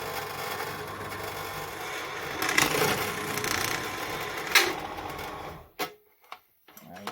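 A drill press whirs and grinds steadily for several seconds drilling a hole, then winds down and stops, leaving a few faint clicks and knocks nearby.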